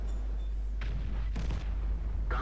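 Artillery shots from a howitzer tank in World of Tanks, three separate booming blasts about half a second apart over a steady low engine rumble, moderately loud.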